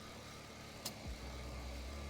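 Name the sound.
used car engine running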